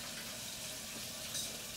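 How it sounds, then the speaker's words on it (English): Chicken wings frying in a deep fryer give a steady, hissing sizzle of hot oil, a constant bright crackle that holds at one level with no talk over it. "So these chicken are cooking pretty fast here, y'all. It don't take long in this deep fryer."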